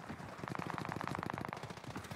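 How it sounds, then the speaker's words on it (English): Rapid automatic gunfire in the battle royale video game Warzone, a dense burst of evenly spaced shots that swells in the middle and then trails off, heard alone without speech. "gunshots going off over to the 344"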